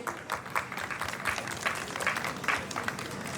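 Audience applause for the band «Рыбы» at an award presentation on stage, a steady moderate wash of clapping from a crowd, somewhat distant and muffled.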